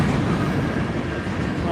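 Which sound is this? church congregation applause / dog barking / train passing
train passing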